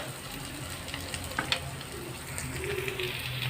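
Pepper-seasoned fish frying in hot oil in a pan, giving a continuous close sizzle that swells slightly toward the end, with a few faint clinks partway through.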